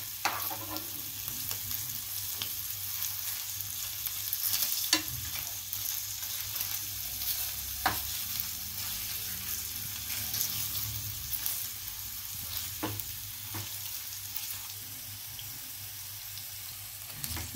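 Paneer heats and fries in a pan for paneer masala, giving a steady close sizzle broken by periodic clicks and scrapes from turning the pieces.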